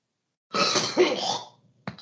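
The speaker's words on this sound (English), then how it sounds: "After I clear my throat." Someone close by clears their throat once with a rough, gravelly rasp that fades quickly, followed by a short sharp noise.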